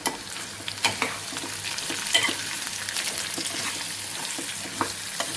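Fresh coconut mixture with turmeric and fine salt is stirred in a pan, a quiet steady sizzle with soft spoon scrapes and occasional taps against the metal.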